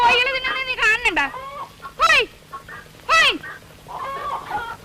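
Hens cluck and squawk around paddy grain in a village courtyard, a series of rising and falling calls in several bursts, fairly close and clear, with short pauses between them.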